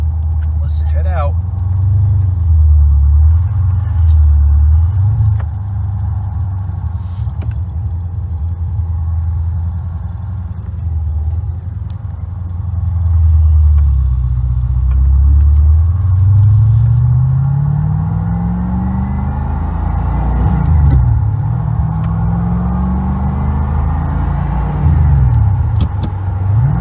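A 1984 Corvette with a 4+3 transmission drives along, its engine rumbling steadily and loudly, with rising and falling rev sweeps as it shifts and accelerates, and speech running over it throughout.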